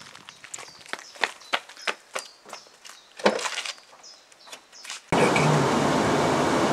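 Several footsteps tap unevenly at first, then a car's cabin fills with a steady, loud rumble of engine and road noise as it drives off, with no talking.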